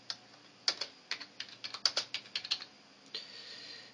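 A keyboard plugged into a Samsung Galaxy S3 over USB OTG is typed on, giving a quick run of about a dozen close, crisp key clicks in an uneven rhythm, with no voices.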